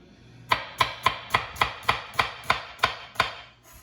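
A very sharp chef's knife slices meat along the grain into strips on a cutting board in a home kitchen: about ten crisp, evenly spaced cuts, close and alone.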